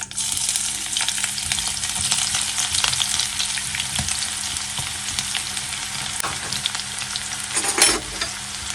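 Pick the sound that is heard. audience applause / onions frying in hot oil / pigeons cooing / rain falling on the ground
onions frying in hot oil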